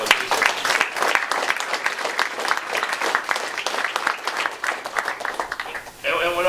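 An audience applauds steadily, dense clapping that thins briefly near the end before a voice starts talking.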